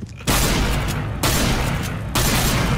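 Sniper rifle shots in a video game ring out three times in quick succession, each a loud broadband blast that sustains heavily before the next.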